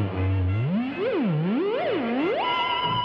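A Space Theremin swoops up and down in wide, looping pitch glides like a sci-fi spaceship, then settles on a high sustained tone, loud and alone.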